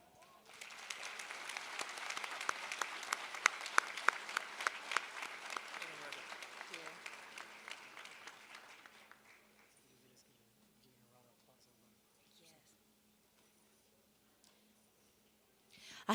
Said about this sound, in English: A huge applause, everybody.